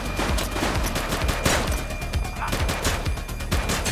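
Sustained, rapid gunfire in a shootout from The Precinct, a police video game: dense bursts of shots overlapping continuously at close range for the whole stretch, loud and steady with no pauses.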